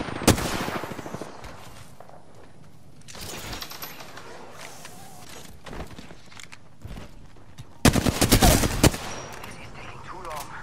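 Bursts of automatic gunfire in Apex Legends with a gold Flatline rifle, a loud opening volley, scattered shots through the middle and a dense, loud burst near the end, with brief footsteps between.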